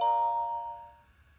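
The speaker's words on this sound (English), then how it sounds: "chime." A bright metallic chime rings once close by, its clear tones fading slowly over about a second and a half, heard alone outdoors at night.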